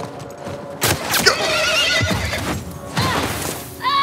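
A horse in the video game The Last of Us Part 1 gives a loud whinny amid hoofbeats and game sound effects, close and prominent, with a second neigh near the end.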